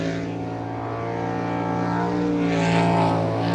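A V8 superboat racing engine drones at a steady, nearly unchanging throttle, a loud and continuous low tonal hum with no voices over it.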